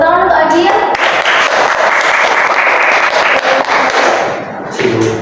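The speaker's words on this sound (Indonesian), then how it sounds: "Tepuk tangan untuk Agil." Students in a classroom clapping for a classmate, giving a close, loud burst of applause with scattered thumps and taps that thins toward the end, with children's voices and a teacher talking.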